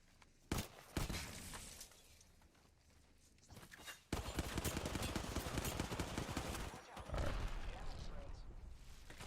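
Repeated gunfire in Apex Legends, with sharp single shots early on and then dense machine-gun bursts after a short pause, mixed with shattering and footstep sounds while a player talks over it.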